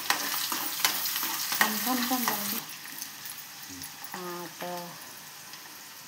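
Onions frying in a pan for Marathi methi bhaji, a soft sizzle with stirring scrapes close by, someone speaking briefly over the cooking.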